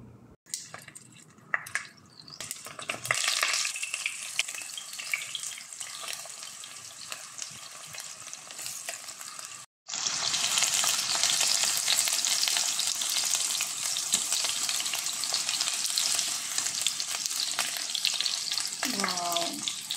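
Chicken skinless longganisa sausages fry in a pan, first a softer crackle, then after a brief pause a loud, dense, continuous sizzle of hot oil spitting close by, with a faint squeak near the end and no talk.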